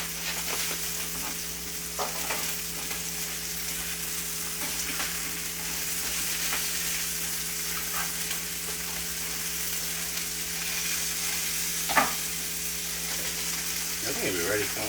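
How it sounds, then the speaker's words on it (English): Roasted garlic mash sautés in a pan with a continuous crackling sizzle and frequent stirring scrapes, close and even throughout, with one sharper knock near the end. "we're gonna put it to saute as well with this"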